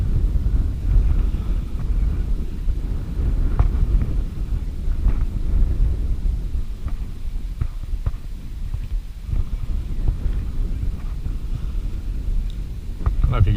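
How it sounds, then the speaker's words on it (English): Wind gusting outdoors on a blustery day among trees while ferreting, a steady low rumbling roar of buffeting air against the microphone throughout, with faint scattered knocks and movement noises. "it's pretty windy today"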